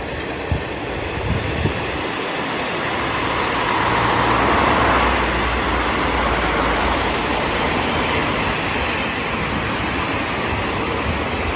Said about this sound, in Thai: รถไฟส่งของขบวนยาวจากขบวนนี้